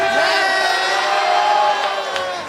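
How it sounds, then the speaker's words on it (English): A loud crowd roars and cheers throughout at a RAGE grand finals fight event, a dense wall of voices with shouts rising above it, tapering off slightly near the end. "Beautiful crowd support for Mahmud right here"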